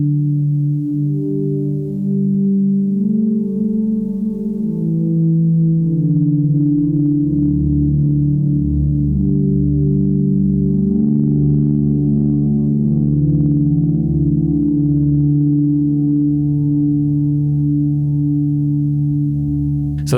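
Electric guitar chords played through reverb and delay pedals, sustained warm low-mid chords that change every few seconds and ring on with smooth tails, loud and close with no talking.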